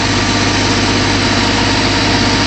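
A 1954 Chevy 210 with a Holley 64-7470 carburetor and heat-activated choke idles steadily, a loud, even engine rumble that runs for the whole stretch with no pauses and no talk.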